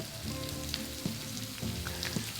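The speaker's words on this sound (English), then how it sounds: "And you can hear that sizzle." A mushroom steak fries in a hot pan, giving a steady, close sizzle with occasional crackles and soft stirring knocks throughout.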